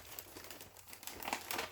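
Sheets of leftover coffee-dyed craft paper being handled crinkle and rustle softly in short bursts, quiet and close, getting a little busier toward the end.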